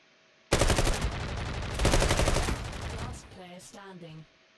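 Rapid bursts of automatic gunfire from a tactical shooter match, loud and close, firing in dense volleys for about three seconds before giving way to a few metallic clinks and brief chirps.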